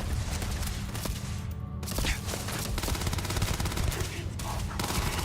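Sustained weapon fire in the video game Starfield, with long, loud bursts of rapid automatic shots and brief gaps between them, while a voice talks underneath.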